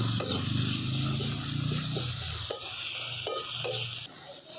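Tomato, green chilli and coriander fry in a pan with a bright, continuous sizzle, while a utensil stirs the mixture with a few soft scraping knocks; the sound is close and steady, and no one speaks.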